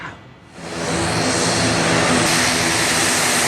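A TNI Air Force Hercules propeller transport plane arrives at Cut Nyak Dhien airport in Nagan Raya, Aceh, its loud engine roar swelling in quickly and holding steady and close, with no voices.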